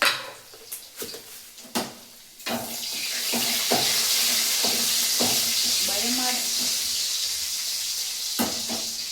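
Utensils clatter a few times, then garlic drops into hot oil and a loud, sustained sizzle takes over and fills the rest of the moment, with a brief voice in the background.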